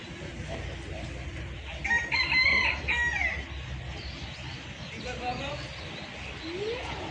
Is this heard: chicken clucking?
yes